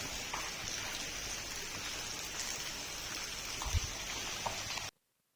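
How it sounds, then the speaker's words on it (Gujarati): Morning rain falling in Surat, a steady close hiss of drops on surfaces with a few soft knocks, ending abruptly. "આ જો વરસાદ છે અત્યારે સવારમાં સુરતમાં વરસાદ ચાલુ થઈ ગયો છે."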